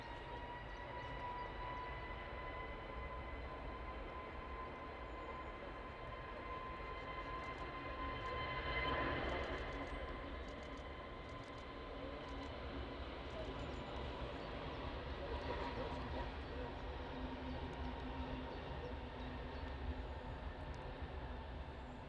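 An EgyptAir Airbus A321neo jet departs Manchester Airport, a faint distant engine roar with steady whining tones that swells gently near the middle and fades back.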